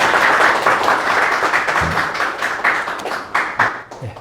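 An audience claps together to welcome a speaker at a church book talk, a dense, steady round of applause that slowly thins and fades into scattered claps.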